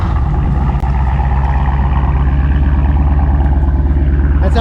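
Dodge Scat Pack engine idling loudly and steadily after an earlier start, with a deep, even rumble that continues without pause.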